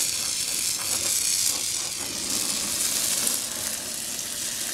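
Hot 1095 steel knife blade quenched in peanut oil, giving a loud, steady hiss and crackling sizzle that runs through the whole clip, with no one talking.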